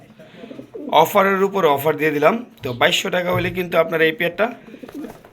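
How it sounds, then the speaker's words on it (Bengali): A pair of Shedel pigeons coos softly beneath a man's continuous, close talking, the low calls barely rising through the speech. "দর্শক এই যে এখানে দেখতে পাচ্ছেন একজোড়া শেডেল কবুতর"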